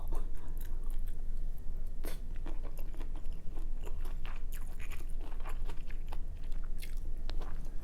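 Close crunchy chewing of kimchi wrapped on rice like a sushi roll, with a Korean crispy pork rib kimchi stew meal: continuous loud bites and wet mastication, no talking.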